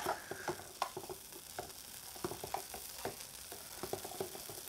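Sausages frying in a camp pan at a motorcycle campsite, crackling in quick irregular pops over a low sizzle, close by and fairly quiet, with no talking.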